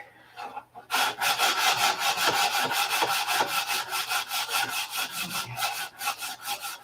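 Wood is sanded by hand with quick back-and-forth strokes in a steady, rapid rhythm. The rasping rub is close and clear, and it starts after a near-silent first second.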